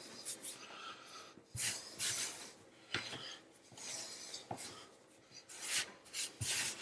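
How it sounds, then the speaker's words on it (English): Hands rub together to clear off wet pasta dough, giving close, soft rasping swishes in irregular bursts with short pauses between them. "I'm just rubbing my hands to get rid of all the wet dough on my fingers."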